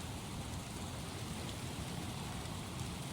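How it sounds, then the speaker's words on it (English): Rain falling in the video game Skyrim, a steady, even hiss of dense rainfall at moderate level with no break or change over the short stretch. "This, we've got rain,"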